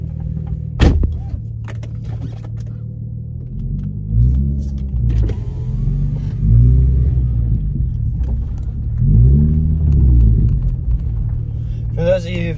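Nissan 350Z sports car pulling away, a low engine rumble with swelling revs in several waves and a thump near the start, heard close from inside the car.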